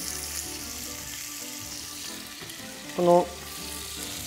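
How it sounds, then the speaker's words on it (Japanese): Onions fry beside sausages in a pan with a steady, close sizzle, broken near the end by a short ringing knock; a voice briefly speaks a word. "ソーセージの隣に 玉ねぎを炒めます"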